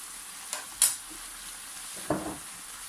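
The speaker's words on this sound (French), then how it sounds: "on arrive presque à la fin de la cuisson, on mélange bien" A tomato mixture cooking with mustard in a pan is stirred with a few soft scraping strokes, each brief and faint, over a quiet low sizzle with no voices.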